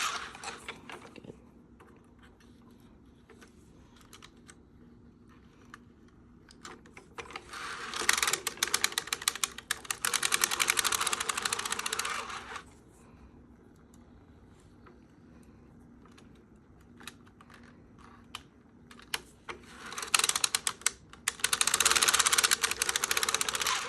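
A circular sock knitting machine is cranked while working a wrap heel, giving quiet rapid mechanical clicking and ratcheting in two bursts with a near-silent pause between them, without any talk.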